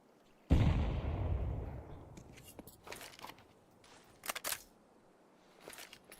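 Gunfire in a Counter-Strike match: one loud, close burst opens, then decays, followed by scattered sharper shots and quick bursts at moderate distance, fainter toward the end.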